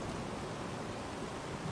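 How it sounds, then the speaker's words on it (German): Steady rain falls in the fantasy video game Enderal, a soft, even hiss of wet noise with no other sounds and no talk. "Da fühlt man sich auch gar nicht wohl, wenn es dann die ganze Zeit so regnet."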